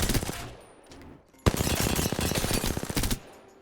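SMG hipfire in Apex Legends: a short burst of rapid gunfire, a pause, then a longer sustained automatic burst, loud and close.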